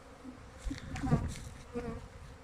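Honey bees swarm around apiary hives during their full spring cleansing flight, giving a steady, close buzzing drone with individual bees passing near and away, and no talking.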